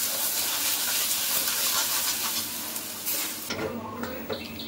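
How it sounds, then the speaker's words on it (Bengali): Loud sizzling of a lentil paste frying in hot oil in a wok, with scraping stirring noises; the hiss drops off sharply near the end. "এবার আমি একটা কড়াই তেল দিয়েছি তেলের মধ্যে আমি গরম করে ডালটা দিয়েছি"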